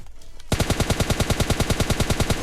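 Rapid automatic gunfire in the PUBG Lite battle-royale game, a steady burst of around twenty close, loud shots after a brief quiet start.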